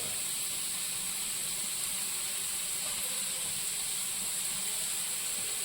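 Curry leaves sizzling in hot oil for a Kerala-style clam fry give a steady, even hiss that holds unbroken throughout, close and fairly quiet, with no voices over it.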